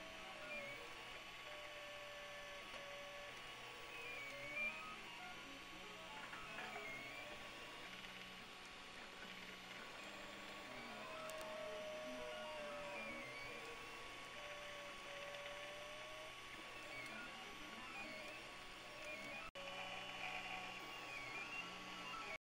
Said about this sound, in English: let's start the printer.